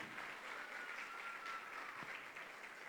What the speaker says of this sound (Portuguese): Aplauda o Senhor, louve ao Senhor pela palavra dEle